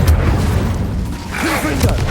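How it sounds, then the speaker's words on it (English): An Incendio fire spell is cast in the video game Hogwarts Legacy, a loud booming whoosh of flame swelling under a voice, with a short burst near the end. "Incendio"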